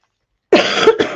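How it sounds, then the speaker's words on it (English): A single person coughs twice at close range, a short harsh burst followed by a second quick cough, after a moment of silence. "I have to cough."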